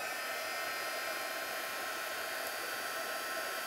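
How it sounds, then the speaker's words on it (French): Heat gun blowing steadily close by while setting embossing powder on a poinsettia card, a constant even hiss of airflow with no pauses and no talking. "on se sert d'un pistolet chauffant, comme ceci"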